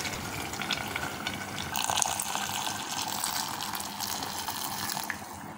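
Hot water poured from a vessel into a pot of fried mutton and black chickpea lentils, a steady close splashing pour lasting several seconds before tapering off at the end.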